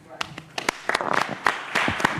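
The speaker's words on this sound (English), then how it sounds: "Join me in giving our panelists a round of applause" Audience applause for a panel of speakers at a voting rights discussion event: scattered claps build into fuller clapping from a nearby crowd, with an undercurrent of voices.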